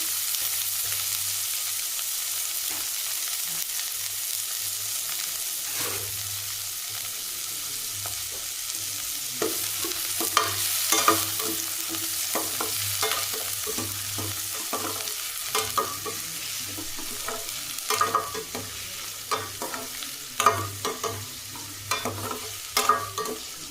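Chopped onion fries in a pan with a steady soft sizzle, punctuated by scraping stirs and clinks of a utensil that grow busier toward the end, close and without talk.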